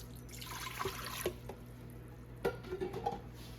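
A cup of water poured into an Instant Pot fitted with a trivet, close trickling and splashing that comes in two short bursts over a low kitchen hum.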